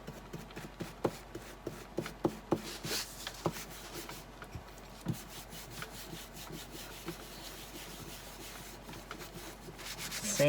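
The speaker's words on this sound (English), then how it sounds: "Sand it back," Painted wood blocks are hand-sanded in short, scratchy rubbing strokes, with irregular bursts and taps over a quiet background and no talking.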